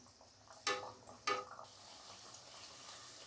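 Bhature dough slipped into very hot oil, giving two sharp bursts of sizzling as each piece hits, then a steady soft frying hiss that carries on alone.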